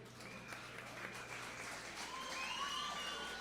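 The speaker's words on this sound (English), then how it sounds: "A big round of applause to your winner, Dani Barez." Crowd at an MMA fight night applauds the winning fighter after a bout, steady applause under a venue sound wash, with a faint voice and a tonal whine rising near the end.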